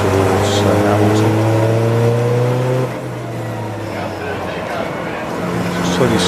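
A Radical race car at Silverstone GP during a 750MC Birkett Relay, its engine droning loud and steady as it nears and passes, then fading slightly while other cars continue under commentary talk.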